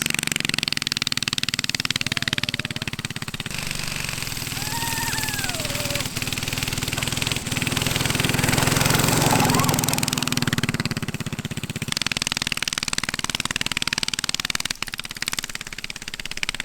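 Engine of a mini tank trike revving hard as it pulls away over soft ground, a loud continuous motor drone running steadily with a rising pitch sweep, while people talk briefly over it.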